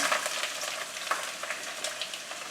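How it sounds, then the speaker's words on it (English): Slit green chilies frying in hot oil for a coconut fish curry, a dense continuous sizzle with small scattered pops and crackles. "the green chilies that I cut into little slits. So I'm going to add those as well"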